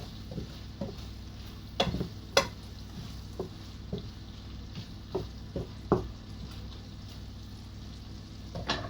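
Onions fry quietly in a pan for tartiflette under a low, soft sizzle, while a utensil stirs them in a series of separate scraping knocks that come and go.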